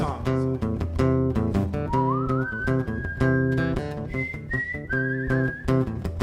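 A man whistles an organ melody, imitating the instrument with a bright, close tune. Short punchy notes at the start give way to longer sustained and gliding pitches.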